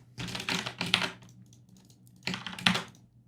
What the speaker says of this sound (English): While I'm typing this code